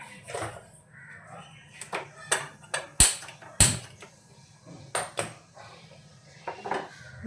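A metal lid set down on a pot of Kolkata-style biryani, heard as a few sharp clanks and knocks amid scattered kitchen clatter of dishes and utensils, with no talk.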